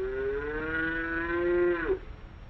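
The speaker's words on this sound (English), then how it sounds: "Yes, Buttercup the calf is just waking up too. He is hungry and wants his mother," A hungry calf on a horse farm gives one long, loud, close moo lasting nearly two seconds, ending abruptly, with quiet farm background after.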